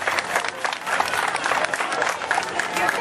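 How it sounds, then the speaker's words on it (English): A crowd at an alligator wrestling show claps in a dense, steady wash of applause, fairly loud and continuous for the whole stretch, with some scattered voices mixed into the noise. "Have another nice big round of applause for Dave."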